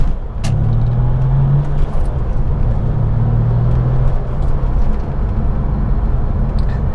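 A Porsche 993 classic car is driven on the road, its engine giving a steady, loud, low rumble with a brief rise in revs early on, heard from inside the car with no talking.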